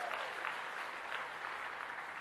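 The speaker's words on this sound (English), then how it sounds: "Give yourselves a round of applause." Audience applause at a convention following a motivational speaker's talk, a dense steady clapping from a large crowd, loud and continuous throughout with no voices over it.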